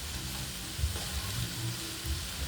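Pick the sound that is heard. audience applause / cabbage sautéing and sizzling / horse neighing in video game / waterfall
cabbage sautéing and sizzling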